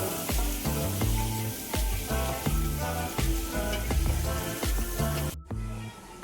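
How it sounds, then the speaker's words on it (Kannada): Paneer frying in butter in a pan, a steady close sizzle with light stirring, punctuated by rhythmic clinks and a low background drone, ending abruptly after about five seconds. "ಬಟರಲ್ಲಿ ಚೆನ್ನಾಗಿ ಸ್ವಲ್ಪ ಫ್ರೈ ಮಾಡಿದರೆ ಸ್ಮೂತಾಗಿ ಬರುತ್ತೆ ಪನ್ನೀರು"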